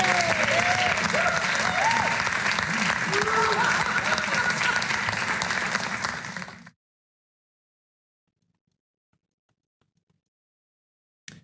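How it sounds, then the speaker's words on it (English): A lecture audience gives loud, dense applause for about six seconds, with voices calling out over the clapping, before it cuts off to silence. "Everybody put your hands together, give it up for the"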